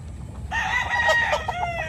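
Nearby rooster lets out a single full cock-a-doodle-doo, rising sharply and trailing off, loud and clear over a low background hum.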